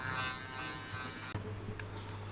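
Electric hair clipper during a buzz cut, a steady close-up motor hum with faint rasping as it moves through hair, briefly interrupted once before resuming.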